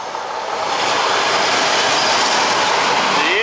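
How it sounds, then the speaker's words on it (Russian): A train arriving from Warsaw rumbles past up close, a steady loud roar of wheels on rails with a brief rising metallic squeal near the end; no one speaks. "приехал поезд из Варшавы"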